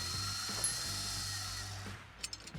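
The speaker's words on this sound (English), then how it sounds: "we can either use our bolts or we can use our handy dandy drill" A power drill whirs as it removes engine bolts in Car Mechanic Simulator VR, a steady mechanical buzz with a faint ratcheting texture, fading near the end into a few short clicks.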